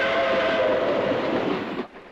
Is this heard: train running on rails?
yes